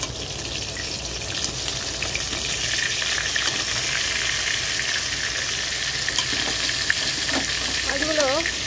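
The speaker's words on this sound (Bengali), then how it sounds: "আর এখানে রান্না হচ্ছে যে মাছ ভাজা" Fish frying in a pan in a home kitchen, some pieces starting to stick: a steady, close, hissing sizzle runs unbroken throughout, with faint clinks and light background sounds over it.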